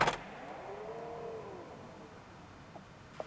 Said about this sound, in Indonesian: mobil ini mampu menutup pintunya secara elektronik secara bersamaan